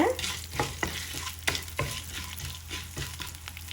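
Cumin seeds crackle and fry in hot oil for a tomato mint chutney, a steady close sizzle with a few sharper ticks and pops, and no talking.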